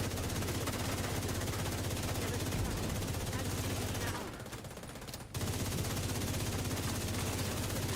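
Gunfire rattles nonstop in a Division 2 firefight, a dense, loud wall of shots that drops out briefly for about a second midway before resuming just as heavily.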